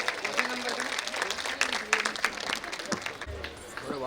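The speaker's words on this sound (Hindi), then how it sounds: "आप सब तालियां बजाते रहिए" Clapping from an audience at a school annual function, scattered sharp claps mixed with crowd noise and a few voices, loud and uneven, thinning toward the end as a low tone enters.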